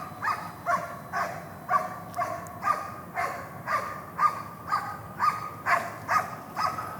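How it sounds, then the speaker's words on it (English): A dog barks over and over in a steady rhythm, about a dozen sharp, moderately loud barks spaced evenly with no talking. "A dog barks at my body."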